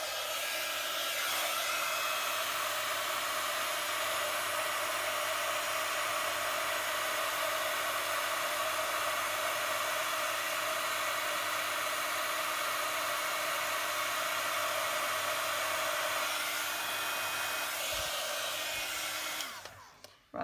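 A heat tool used for card embossing blasts a steady, loud hiss of hot air for about twenty seconds, holding constant before cutting off at the end, with no talking.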